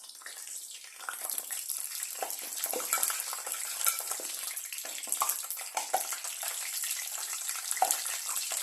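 Jackfruit bajji deep-frying in hot oil: a bright, crackling hiss with fine popping and bubbling, steady and close, building slightly after the first second, with no voices.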